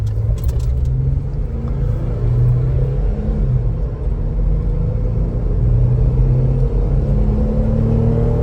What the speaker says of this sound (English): It's always traffic no matter where you go.